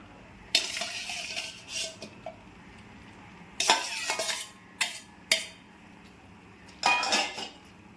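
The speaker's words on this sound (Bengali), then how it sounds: "এখন মশলা ধোয়া জলটা দিয়ে দিলাম। সঙ্গে ভেজে রাখা আলুগুলোও দিয়ে দিলাম।" Spice water and fried potatoes go into a pot of cooking peas for ghugni, heard as separate bursts of metallic clatter, spoon scraping and a faint sizzle, with quiet pauses in between and no speech.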